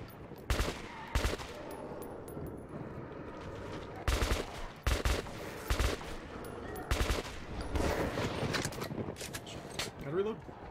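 Gunfire in Metro 2033 Redux, sharp shots in scattered bursts and short volleys, close and fairly loud, with a voice speaking between and over them.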